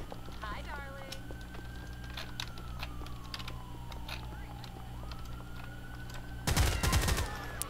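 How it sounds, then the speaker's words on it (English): A suspect fires a gun in an LCPDFR police mod for GTA IV, a sudden loud burst of rapid shots near the end after a long wailing siren tone over background noise. "Another subject decided to shoot at me."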